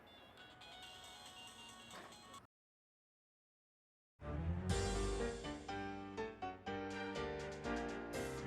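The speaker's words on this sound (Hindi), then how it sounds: "फिर बज रहा है तेरा मोबाइल" A mobile phone ringtone plays as a melodic electronic tune, cuts out into silence, then rings again louder with bright repeated chiming notes, no talking over it.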